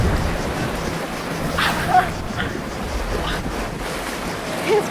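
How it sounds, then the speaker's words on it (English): Choppy sea surf and gusting wind on a windy coast at Split, Croatia, a steady broadband rush of breaking water with a few brief splashes, fairly loud and close, with no voices. "I made the decision to brave the waves."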